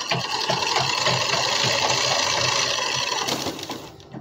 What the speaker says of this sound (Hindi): इसको हम मजबूती करने के लिए इसको इस तरह से थोड़ा सा डबल सिलाई कर लेंगे